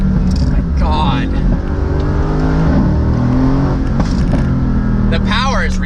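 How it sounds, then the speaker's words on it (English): A 2018 Mercedes-AMG GT Roadster's engine revs loudly with the top down, a deep throaty roar rising and falling throughout with wind buffeting, while people talk excitedly over it. "you get to hear that motor a little bit more with the top down"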